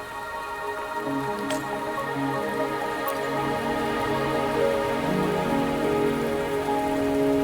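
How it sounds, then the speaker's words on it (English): Rain falling in the video game Wuthering Waves, a steady close patter of drops on surfaces with a dense hiss, joined by sustained tonal background music throughout. "Are you trapped here by the rain?"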